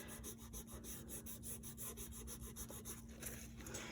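Steady rhythmic rubbing against a cold wax painting, a soft repeated scraping stroke at an even pace, close up and quiet, with a faint constant hum beneath.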